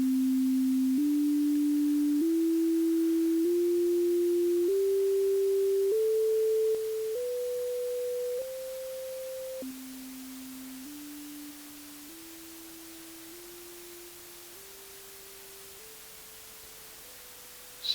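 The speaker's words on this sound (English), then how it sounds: "You can still hear the sine wave oscillator" A steady pure electronic tone steps upward in pitch every second or two, drops back, then climbs again in small steps, fading slightly in loudness.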